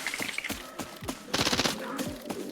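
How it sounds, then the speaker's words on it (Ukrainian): Gunfire in the video game Arena Breakout: several sharp shots crack in quick succession, with a denser burst of rapid automatic fire midway through, at moderate loudness with no one talking. "От, чуєш, вони вже стріляються."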